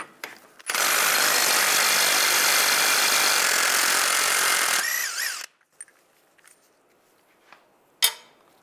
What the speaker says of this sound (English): We're going to take the axle nut off using a 30 millimeter 12 point socket.